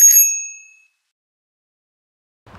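A bell struck once at a seaside spot on a road trip through Niigata and Akita, ringing with a bright, clear tone that decays over about a second, followed by silence and a faint low rustle at the end.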